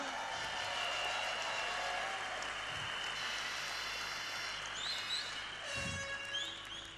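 Applause from an audience honouring Haji Hendri Riganto, a steady diffuse patter of clapping heard from a distance at low level, with no voices over it.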